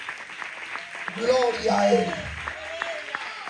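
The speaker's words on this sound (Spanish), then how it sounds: "Aleluya, es aplauso para Dios." A church congregation at a Spanish-language sermon claps steadily in scattered sharp bursts while a preacher's voice carries over the applause.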